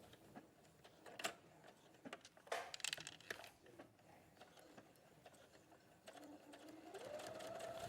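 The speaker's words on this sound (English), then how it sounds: "I'm going to sew down the long sides and I'm going to reinforce at the top and the bottom of each seam allowance" A sewing machine stitching down the long sides of a fabric bag, quiet mechanical whirring and ratcheting in short runs, with a steadier rising hum toward the end.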